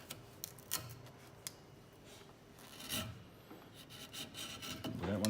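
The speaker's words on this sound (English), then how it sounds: "So I'm using the back of the chisel." The back of a chisel scrapes and rubs at the wooden heel of a ukulele as it is shaped, faint irregular scraping with a few sharp ticks and louder rasping strokes toward the end.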